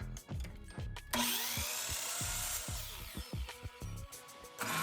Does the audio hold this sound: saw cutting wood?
yes